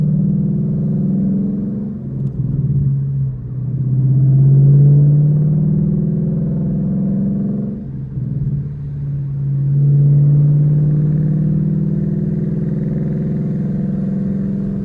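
A Ford Mustang GT V8 with a 10-speed automatic or 6-speed manual, cruising around town, gives a steady, loud low-pitched drone that swells twice with throttle and falls back, heard alone with no talk.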